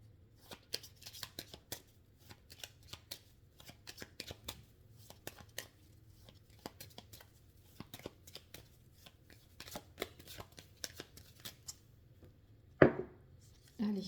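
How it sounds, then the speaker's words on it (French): Tarot cards shuffle in steady rapid flicks and riffles close up for most of the clip, ending in a brief louder rustle, with no voice over them. "Je remonte un peu les cartes"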